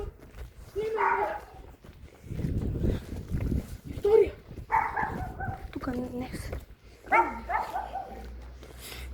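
A dog barks and whines in short bursts, fairly close, while several people talk loudly over and between the sounds.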